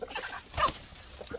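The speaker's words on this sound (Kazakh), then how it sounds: "Мына тауықтарды қара." Chickens clucking close by in a farmyard where sheep also feed, with a few short, scattered clucks and one louder squawk near the middle.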